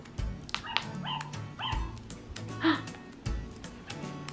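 A toy puppy from a children's sound book gives a short series of electronic yips and whimpering barks, fairly near and clear, with soft handling thumps between them.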